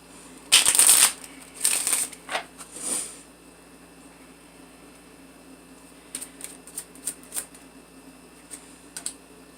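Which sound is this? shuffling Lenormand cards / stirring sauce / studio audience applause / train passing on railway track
shuffling Lenormand cards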